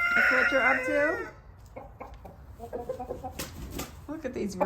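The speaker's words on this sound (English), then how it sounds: "Look at these roosters." Roosters free-ranging outdoors in the rain, with a loud, near crow at the start followed by scattered clucks and calls over a steady wash of rainfall.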